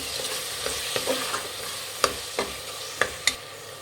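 Tomatoes stirred and fried in a pan for rice bath, a steady sizzle broken by several sharp spatula scrapes and taps, close and fairly loud with no talking.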